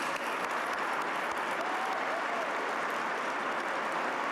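Applause for the event team and volunteers at a business award dinner, a soft, even wash of many hands clapping that sounds distant and steady throughout.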